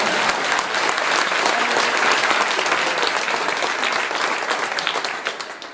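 A large congregation at a Jain acharya's morning sermon claps in a thick, sustained burst of applause that runs throughout and tapers slightly at the end.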